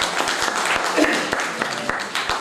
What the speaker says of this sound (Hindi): तो हम सबकी तालियों में अल्लामा अब्दुल माजिद बशीर साहब स्टेज।